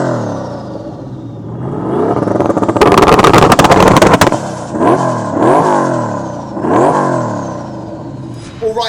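A Toyota Corolla AE86 engine revs hard on a runway, loud and close, climbing through a sustained high-rpm roar and then a series of sharp rising and falling blips with no talking.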